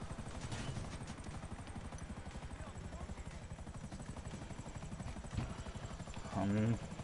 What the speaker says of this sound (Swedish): Vad fan är helikoptern?